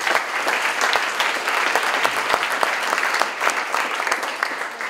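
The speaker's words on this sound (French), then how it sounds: "je vous demande de l'applaudir s'il vous plaît" Sustained applause from a large conference audience, dense and steady throughout with no voices over it.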